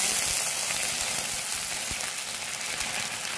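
Caramel sizzling hard in a pan for a vegetarian braise as about three tablespoons of water go in, a steady loud hiss and crackle with no talk.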